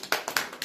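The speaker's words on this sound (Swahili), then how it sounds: "Pigeni makofi mengi watoto." Children clapping at a birthday party, a brief run of about five close, uneven claps in quick succession, with no talking over them.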